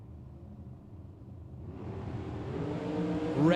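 Dragster engine at a drag race bracket event in Las Vegas, a distant rumble that swells and grows louder, ending with a rising rev as the car nears.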